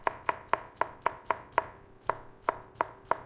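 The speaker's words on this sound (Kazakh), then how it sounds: "Ең алдымен сәбізді ұзынша етіп турап аламыз." A knife chops carrots into long strips on a board for plov, eleven sharp, evenly spaced taps, close and clear with no talking.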